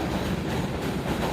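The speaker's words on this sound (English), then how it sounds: "You're going to lose your voice naturally because you got to yell over the train station." A train passing through a New York City train station, a steady loud rumbling roar with faint rhythmic clatter, close and continuous throughout.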